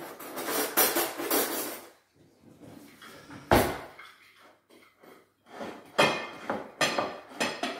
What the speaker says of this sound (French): j'ai oublié de mélanger ici mon café, hop, à ma chapelure.